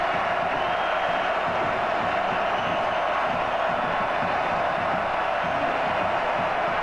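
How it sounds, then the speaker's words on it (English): Loud, continuous roar of a packed college football stadium crowd at a Virginia Tech versus UNC game, a dense unbroken wall of cheering and yelling with no clear individual voices. "That defense asking for the crowd to make even more noise."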